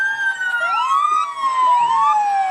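A Salem Memorial District Hospital ambulance siren at a parade of lights, a loud, close wail that sweeps up and down continuously and stands clearly on its own.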